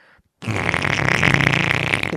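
A mouth imitates a fart with a loud, buzzy, sustained raspberry that runs about two seconds after a brief near-silent gap, close and alone.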